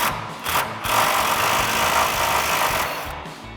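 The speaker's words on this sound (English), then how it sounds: "we're going to grab our 21 mil socket and remove the nut on the ball joint of our pitman arm side" A 21 mm socket working the ball joint nut on the pitman arm end of a chromoly drag link on a RAM 2500, a steady close mechanical whir with rattling that runs almost continuously, dipping briefly near the start and end.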